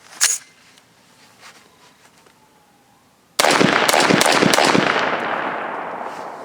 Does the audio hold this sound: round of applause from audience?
no